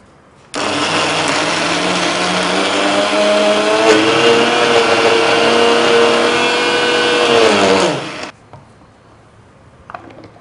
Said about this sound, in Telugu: వాటర్ వేయకూడదు, అలాగే గ్రైండ్ చేయాలి.